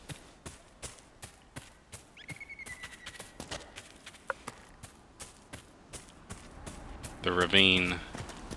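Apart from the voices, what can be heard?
horse hooves in a video game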